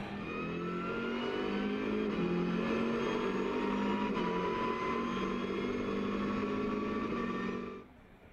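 Lamera Cup race cars battling wheel to wheel on the Red Bull Ring circuit, engines roaring loud and close in a sustained, steady drone with rising tones, then dropping away abruptly at the end.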